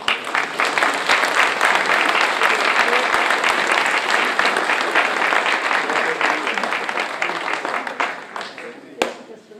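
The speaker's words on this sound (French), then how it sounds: "On peut l'applaudir, hein." Sustained audience applause at a medal ceremony during the New Year wishes in Tarnos, a dense, loud wash of many hands clapping steadily for nearly ten seconds, thinning slightly and ending with a single sharp clap.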